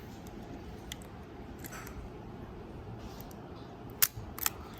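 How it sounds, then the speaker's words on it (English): A Zeiss Ikon Vitessa 500 AE camera shutter fires near the end: a couple of sharp, quick mechanical clicks close by over a quiet room hiss. "you can see that the shutter fires"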